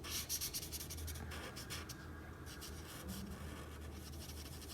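A poppy-coloured marker colours in a small drawing of a Fortnite Airhead skin emoji on paper, making faint, close scratchy strokes in short bursts followed by steadier rubbing.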